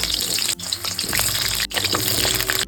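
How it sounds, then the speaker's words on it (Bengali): Potatoes fry in hot mustard oil with turmeric and salt, a loud close wet sizzle and spatter that runs continuously with brief dips, no voice heard. "এবার আলুগুলো একদম লাল লাল করে হলুদ এবং লবণ দিয়ে ভেজে নেব"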